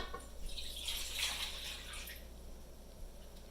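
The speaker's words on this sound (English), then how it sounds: "I'm going to add the water to a bowl" Water pours steadily into a bowl for a few seconds with a hissing, splashing rush, close by and fairly loud, no voices.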